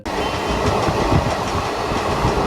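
Passenger train on the Lalgola to Naihati run rolls along with a steady, loud rumble and rattle of wheels on track, continuous and close from inside the carriage.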